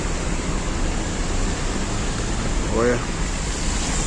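Floodwater rushing over a small bridge during heavy rain in Vitória da Conquista, a loud, steady broadband roar of moving water close by, with someone speaking briefly over it.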